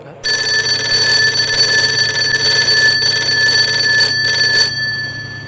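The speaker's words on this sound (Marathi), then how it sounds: "घड्याळाचा गजर वाजला" A bell alarm clock rings loudly and continuously for about four seconds, then cuts off, leaving a faint fading hum.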